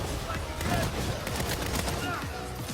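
Hip-fire gunshots in the video game Saints Row (2022), a dense, continuous clatter of rapid shots mixed with game sound and a voice talking over it.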